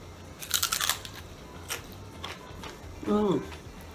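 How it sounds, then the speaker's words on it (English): A crunchy tostada topped with a make-ahead breakfast filling is bitten, giving a few crisp crackling crunches close to the mic, with a brief voice sound near the end. "Now this is really nice because tostada is crunchy."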